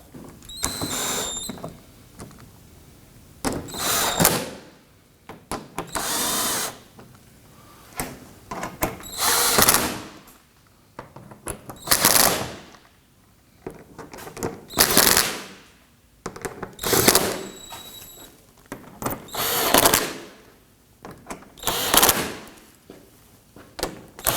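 Power tool snugging down radiator screws on a 2018-2024 Toyota Camry 2.5L four-cylinder, repeated loud bursts of whirring ratcheting, about ten short runs separated by brief pauses, close and without talk.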